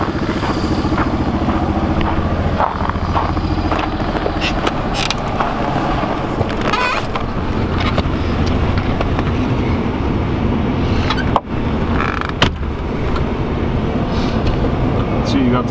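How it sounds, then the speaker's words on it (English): A 1990s Chevrolet Corvette C4 Z07 engine idles with a dense, rumbling tone and lifts in a few small revs, steady and close for the whole stretch. "It revs a little bit, that's good."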